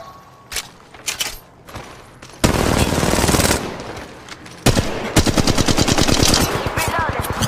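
Weapon fire in the mobile shooter Apex Legends Mobile: a few scattered single shots, then two long, loud bursts of rapid automatic gunfire separated by a brief lull.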